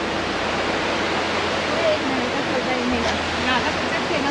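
The Dhauliganga river near Jauljibi on the India–Nepal border rushes in a steady, dense wash of flowing water, loud and unbroken throughout.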